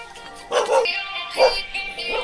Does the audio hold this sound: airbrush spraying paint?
no